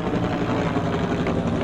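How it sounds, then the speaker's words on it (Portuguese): A helicopter flies overhead above a Rio de Janeiro hillside community, its rotor thudding in a steady, loud low rumble throughout the short stretch. "A vantagem tática do helicóptero ali por cima é muito grande."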